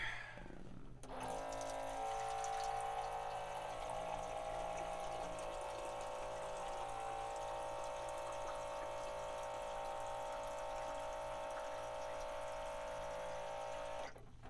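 Water running steadily into a drinking water container during a refill, a continuous filling hiss with a rising tonal hum that lasts the whole stretch, close and fairly quiet, with no talk.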